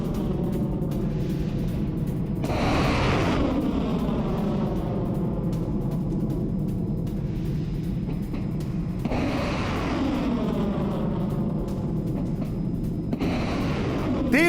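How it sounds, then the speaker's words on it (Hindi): Heavy booming blasts from hypersonic missile strikes on a drone and shell production site in Ukraine, several deep rolling explosions spaced seconds apart over a constant low rumble, loud and distant-sounding. "रूसी सेना ने दागी हाइपरसोनिक मिसाइलें, यूक्रेन के ड्रोन शेल प्रोडक्शन साइट पर निशाना"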